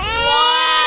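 A cartoon newborn baby gives a loud, sustained, high-pitched wail in one continuous cry.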